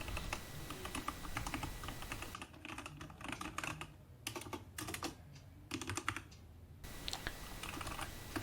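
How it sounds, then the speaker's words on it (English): Unmodified Cosmic Byte Black Eye mechanical keyboard being typed on, a rapid, irregular stream of clacky keystrokes up close, with a few brief pauses between bursts and no speech. "Here is a sound test of how the keyboard sounded before any modifications were done."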